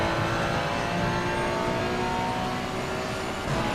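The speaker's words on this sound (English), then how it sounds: "5 minutes of me driving around, hot lapping." Race car engine in a sim racing game, hot lapping at Spa-Francorchamps on low tyre pressures, roars loud and steady for the whole stretch, holding high revs with no break and no voices over it.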